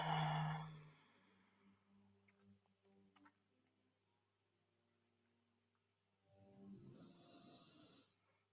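Faint snoring in a quiet room during a floor yoga session. A soft, low breathy snore sounds late in the clip, with a brief louder sound at the start.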